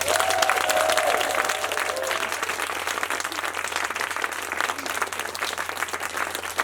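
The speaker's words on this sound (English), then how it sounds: "Could we give them another round of applause?" An audience at a Reception class school assembly applauds after a children's performance, a dense, steady wash of many hands clapping that stays loud and fades slightly, with a few faint voices mixed in.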